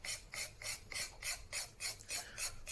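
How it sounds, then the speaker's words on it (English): Card scraper drawn repeatedly across varnish on a Telecaster guitar body, giving about nine evenly spaced rasping strokes, close and crisp, with no talking. "there was a little bit of dirt on the top part of the varnish that I just carefully scraped away"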